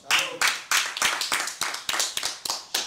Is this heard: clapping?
yes